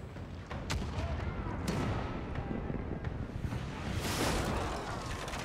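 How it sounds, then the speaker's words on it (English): Repeated booming cannon blasts from a ship's starboard cannons firing grapeshot in a Pillars of Eternity II: Deadfire naval battle, several heavy shots with rumbling, dense noise between them, fairly loud and close. "we gotta fire the starboard cannons"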